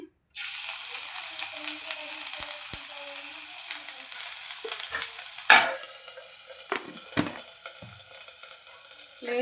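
Vegetable palya fries in an oiled pan with a steady close sizzle and hiss, occasional scraping stirs and utensil knocks over it, easing slightly in loudness toward the end.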